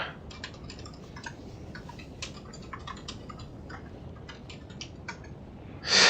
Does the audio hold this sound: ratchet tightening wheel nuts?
no